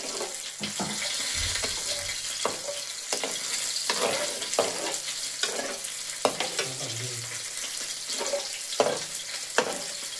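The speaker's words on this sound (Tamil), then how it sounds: "இப்போ பாருங்கள், ஃபிஷ்ஷு ஃப்ரை ஆகிடுச்சு" Fish fries in a pan of hot oil while a fish curry is cooked, with a steady close sizzle, scattered stirring clatters and a tap running water in between.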